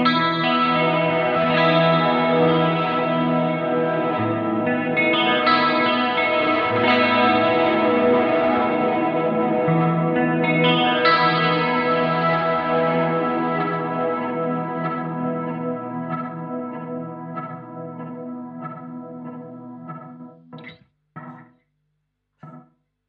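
A guitar runs through the Vague Memory crystals preset on an Eventide H90, giving shimmering, pitch-shifted, reverberant chords that swell and wash together. The sound then thins into fading, stuttering echo fragments and breaks off.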